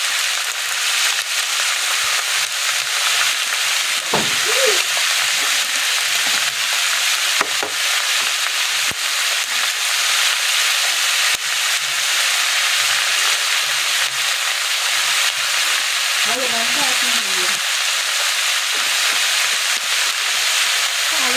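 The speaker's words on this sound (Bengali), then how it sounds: "এরপর ভালো করে মিশিয়ে নিয়ে নেড়ে চেড়ে কিছুক্ষণ পর" Potatoes and onion with salt and turmeric frying in a pan, a loud, steady sizzle with occasional scrapes of stirring, close up throughout with no talking.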